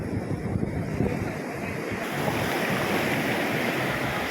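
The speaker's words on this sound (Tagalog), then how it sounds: "pagka dumating po malaking alon ayan papasok po dito" Steady roar of surf and large crashing ocean waves in stormy weather mixed with strong wind buffeting the microphone, continuous with no voices.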